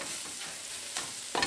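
Flour cooks in a pan for a spinach pie, a faint, quiet sizzle under a few soft scraping strokes of a spoon stirring, with a slightly louder scrape at the end.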